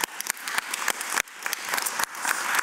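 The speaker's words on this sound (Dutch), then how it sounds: "En laten we gewoon weer even een applaus doen." Audience applause at a harvest festival event celebrating food pioneers, a dense, steady patter of many hands clapping close by for nearly three seconds, with no talking.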